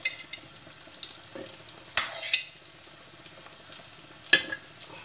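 Ground masala sizzles steadily in a pan while a spoon stirs it, with two or three louder scraping clanks against the metal rising over the constant soft frying hiss.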